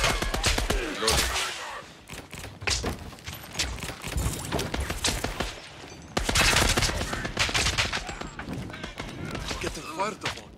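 Rapid gunfire from the Scavengers video game crackles in dense volleys and sharp single shots, loud and near, with a surge of fire partway through and voices talking over it.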